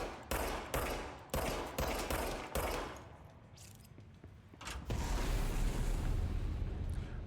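Loud gunfire in the action game Control: a run of sharp, evenly spaced shots, a brief lull, then a dense roaring burst of firing that carries to the end, with no voices.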